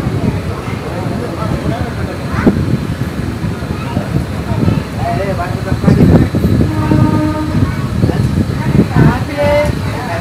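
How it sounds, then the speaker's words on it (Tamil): Bangalore Karaikal Express pulling out of Chinna Salem station, heard from on board as steady rumbling and clattering with occasional squeals and a horn, while voices chatter over it. "சின்ன சேலம் ரயில்வே ஸ்டேஷன்ல இருந்து கிளம்பியாச்சுங்க."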